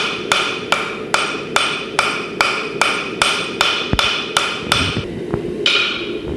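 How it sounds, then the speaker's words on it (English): Rhythmic ringing hammer blows on hot steel being forged into round bar stock, about a dozen evenly spaced strikes, loud and close, with a short pause before the final hit. "He's pounded it into a round bar stock here."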